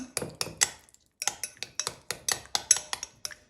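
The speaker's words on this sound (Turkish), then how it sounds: "Şimdi sarımsaklı yoğurdumuz arkadaşlar dikkatli bir şekilde güzelce şöyle bir karıştıralım." A spoon clinks and scrapes against a bowl of garlic yogurt in quick, uneven strokes, close by, with a brief pause partway through.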